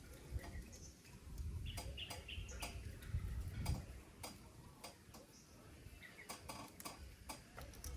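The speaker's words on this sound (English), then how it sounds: "Let's go ahead and cut that. It seems to be plastic. So first I'll try a utility knife." A utility knife scrapes and cuts at a hard plastic baffle inside a water filter, making a series of sharp ticking clicks and scratchy strokes over a low background rumble, with no talk.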